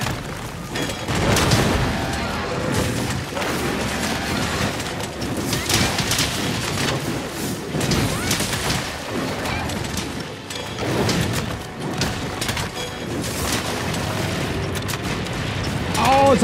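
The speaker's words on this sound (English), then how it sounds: "Someone got some fire, some cannon fires also" Cannon fire and booming blasts in a Monster Hunter World hunt against an Anjanath, repeated heavy thuds over a dense, continuous wash of game combat noise with bird-like calls mixed in.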